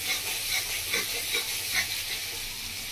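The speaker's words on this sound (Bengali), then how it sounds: "বন্ধুরা, পেঁয়াজটা ভেজে নিচ্ছি" Onions fry in a pan for a village-style Bengali rui posto fish dish, a constant close sizzle marked by regular soft stirring strokes roughly every half second, with no talking.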